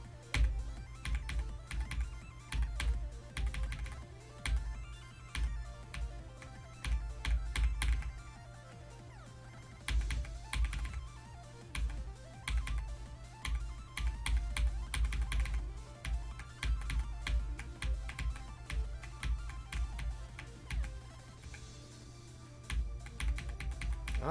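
Repeated presses on a computer keyboard's up arrow key during a game, a close, rhythmic clicking in quick clusters with short gaps, continuing steadily over a low background hum.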